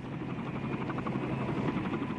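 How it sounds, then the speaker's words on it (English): Helicopters land and take off at the U.S. Embassy grounds during a chaotic evacuation, a loud continuous rotor thrum with rhythmic blade chopping filling the scene. "helicopters were landing and taking off from inside the grounds"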